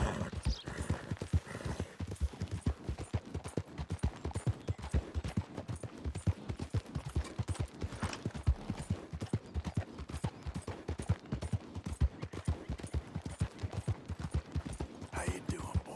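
Rapid, steady clip-clop of horse hooves galloping in Red Dead Redemption 2, a dense rhythmic pounding that runs throughout, with scattered gunfire-like cracks and faint game ambience mixed in.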